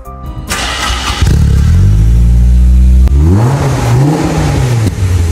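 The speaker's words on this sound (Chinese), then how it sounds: "三木在现实生活中也开了一台86，我看的这辆真的是1:1还原，发动机也换上了27门" Toyota AE86 fitted with a swapped engine, revved hard up close: a loud start, then rising and falling revs, a sharp blip, and more throttle sweeps.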